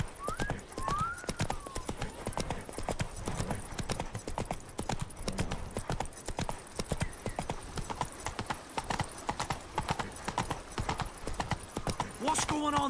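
Roach, a horse in the Witcher 3 video game, gallops with rapid, rhythmic hoofbeats throughout, with an occasional whinny and someone speaking briefly over it.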